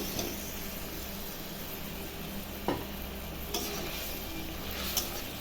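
Potatoes go into a frying pan already holding yogurt, poppy seed and cashew masala for Bengali alur dom, giving a steady low sizzle with a few soft clinks and taps, and no voices.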